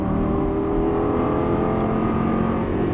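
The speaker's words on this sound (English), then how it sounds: "squeeze that throttle as you unwind the steering wheel" A Lamborghini Gallardo LP550-2 engine pulls on throttle, a loud continuous rising growl with layered harmonics heard from close by, with no talking.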